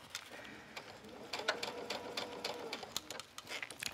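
A sewing machine stitches along a fabric flounce, a fairly quiet, steady mechanical whir with faint repeated ticks, alone without voices.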